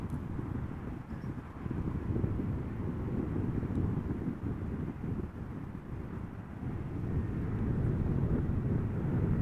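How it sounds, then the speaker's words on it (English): A Vueling Airbus A320 arrives at Amsterdam Schiphol in crosswind, a low, moderately loud engine rumble mixed with gusty wind buffeting the microphone, swelling slightly over the span. "This is Vueling flight 8353, Airbus A320, arriving from Valencia."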